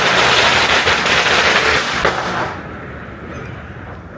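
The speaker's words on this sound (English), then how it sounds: "it's the firecrackers or fireworks that mostly Chinese tourist groups let off" Firecrackers and fireworks set off by tourist groups in Pratumnak, a dense crackling barrage of rapid pops and bangs that runs loud for about two seconds, then fades to a quieter rumbling tail.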